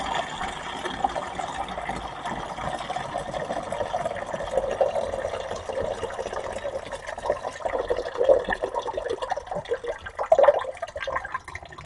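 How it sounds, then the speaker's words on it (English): Water gurgles and drains steadily, rising into louder sloshing toward the end, heard close up in a quiet room. "That's the rest of the water in the tank after you shut your valve off."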